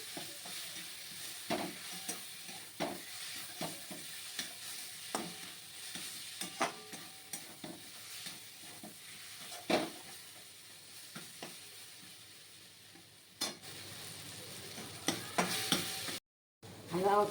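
Mango pieces frying in oil in a pan, a low continuous sizzle punctuated by regular spatula scrapes and taps, close but fairly quiet, with a brief dropout near the end.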